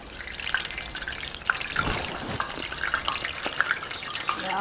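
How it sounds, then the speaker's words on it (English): Tofu frying in a hot pan until golden, a busy crackling sizzle with spattering pops and stirring bumps, close and continuous with no one speaking. "We're gonna fry the tofu into a golden brown."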